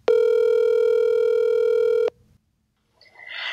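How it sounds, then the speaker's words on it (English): A telephone tone on a radio-show call-in line sounds for about two seconds as a steady, loud electronic beep, then cuts off into silence before a faint crackly line noise rises. "We're gonna go to the phone lines and pick up some phone calls from the fans."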